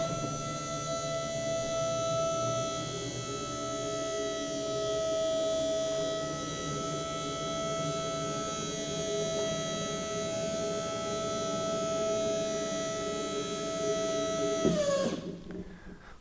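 A stainless steel electric drum tipper lifts a drum with a steady motor whine and hum that stays even for about fifteen seconds, then drops off sharply as it stops, with no talk.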